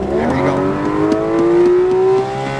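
A Porsche GT accelerates hard on the Kansas Motor Speedway, its loud, close engine note climbing steadily in pitch before easing slightly at the end.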